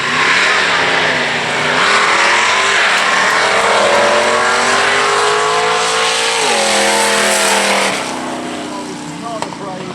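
Drag race cars, one of them a Mustang, launch down the strip at a drag race event, engines roaring loud and close and rising in pitch as they accelerate through the gears, with announcer talk over the top.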